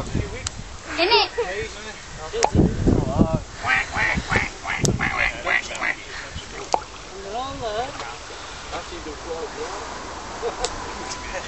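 Domestic ducks quack repeatedly near a small sailing boat on the water, with bursts of quacking scattered across the scene. People talk over them and wind rushes steadily across the microphone.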